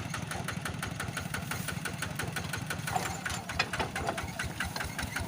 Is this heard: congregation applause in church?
no